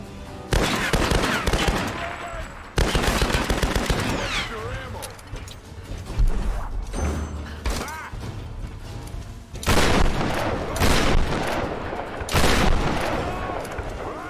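Heavy shotgun blasts in Tomb Raider (2013), several loud booming shots spaced a few seconds apart amid chaotic combat noise, with people talking excitedly over the action.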